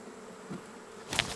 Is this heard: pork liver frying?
no